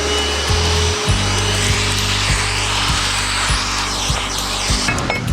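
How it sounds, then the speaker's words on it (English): Steady whirring of a power tool chamfering wood edges, a continuous buzzing drone with grinding, rasping texture and slight pitch shifts, close and loud, no talking. "So Liberty's going to chamfer the bottom of these for our butyl tape."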